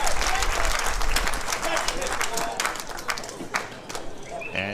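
A crowd at a mixed doubles tennis championship in Las Vegas claps after a point, with loud, dense applause that gradually thins out while a commentator talks over it.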